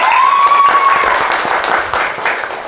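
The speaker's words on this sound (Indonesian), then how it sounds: "Tepuk tangan untuk temannya." Classmates applaud a student's correct answer in a classroom quiz, a burst of clapping that starts strong and gradually thins out, with a brief high tone near the start.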